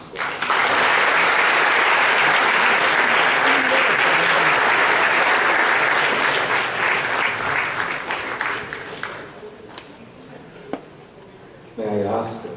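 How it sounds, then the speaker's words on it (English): Sustained applause from a theatre audience at a World Theatre Olympics event in Prague, dense and loud for about nine seconds before thinning into scattered claps, with a short voice near the end. "A big round of applause, please."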